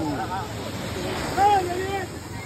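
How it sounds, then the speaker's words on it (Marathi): Sea waves breaking on Alibag beach, a steady wash of surf with a swell of louder rushing water midway, under wind and the excited chatter and shouts of people nearby. "आली लाट आली"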